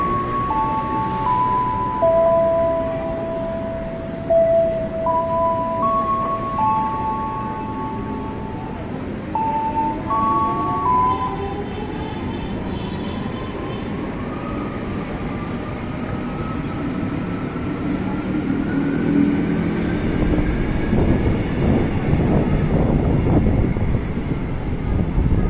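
An electric commuter train at Klender station, bound for Cikarang, produces a continuous rolling rumble with a rising motor whine as it moves, while clear chime-like tones sound over the first half.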